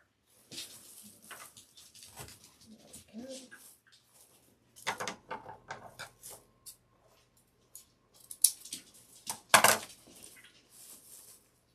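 Scissors snip and trim craft material for a dangle-leg Santa gnome kit, giving sparse, close clicks and cuts separated by quiet pauses, with a few louder snips near the end.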